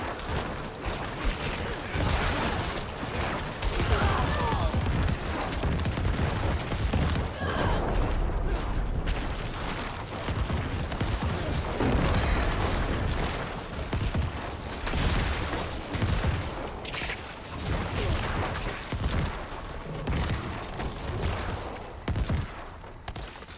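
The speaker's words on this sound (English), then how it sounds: "It almost makes it seem like I don't actually need the bone spear just because of how much corpse explosion does." Rapid, dense bursts of corpse explosions from Diablo IV's Necromancer class, with booming blasts and clattering effects layered continuously at loud volume throughout the stretch of gameplay.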